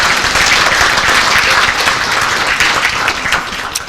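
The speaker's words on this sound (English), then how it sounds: "Let's give them a round of applause." Loud, dense audience applause filling a hall at a village event, sustained steady clapping that eases slightly toward the end.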